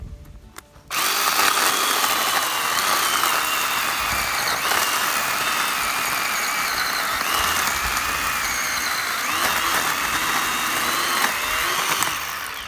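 A Craftsman lithium-ion battery chainsaw cuts through a small tree, starting after a brief pause and then holding a steady, loud electric whine for about twelve seconds with slight shifts in pitch as the chain bites into the wood; no voices.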